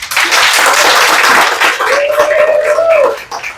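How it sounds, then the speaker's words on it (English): Reception crowd at a small business award event applauding sponsors, loud dense clapping throughout with a voice calling out partway and the applause thinning at the close. "Let's give them a round of applause."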